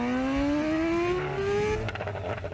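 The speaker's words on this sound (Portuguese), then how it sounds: "Solta o acelerador que ela reduz sozinha e dá os tiros, ó." A BMW S1000RR motorcycle winds down after the throttle is released, its engine note falling steadily before a burst of sharp exhaust pops and crackles near the end, loud and close with no talking.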